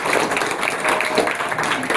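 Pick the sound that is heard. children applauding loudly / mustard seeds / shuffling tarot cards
children applauding loudly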